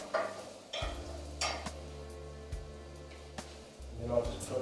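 Chorizo and garlic frying in a pan for a leftover quiche, a soft sizzle with intermittent stirring clicks, partly under a person talking.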